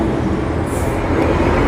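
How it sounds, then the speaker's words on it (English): Steady roar of road traffic along a big, busy street in Casablanca in the evening, continuous and fairly loud, with engine rumble and a brief hiss like an air brake partway through. "Apologies about the traffic noises."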